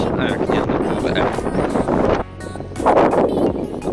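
Wind buffets the microphone on a beef cattle farm, gusty rumbling that drops briefly mid-way and then surges back.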